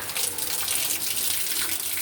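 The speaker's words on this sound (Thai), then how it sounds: "น้ำไหล" Rainwater runs in a steady, close stream during a rainstorm that is breaking tree branches, a continuous broadband wash of flowing water with no voices heard.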